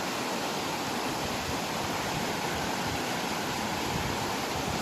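Loud, steady rushing of the flooded Gido river at Somolo-Molo, a dense, unbroken roar of churning water filling the whole clip with no voices over it.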